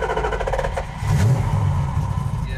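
A 1972 Dodge Charger with a 400 Magnum engine and four-speed, starting and revving up near at hand, a steady loud rumble that swells after a brief start-up.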